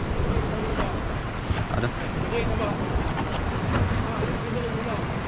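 Sea waves breaking near the shore at Tanjung Puteri, a constant rushing wash mixed with wind buffeting the microphone, with a brief spoken word from someone nearby.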